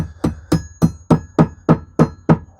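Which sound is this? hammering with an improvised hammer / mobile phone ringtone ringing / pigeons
hammering with an improvised hammer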